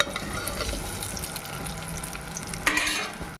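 Paneer pieces frying with cumin seeds in a hot pan, a steady close sizzle with stirring scrapes throughout and a sharper burst of sizzling near the end as more goes in, for a mango paneer rice.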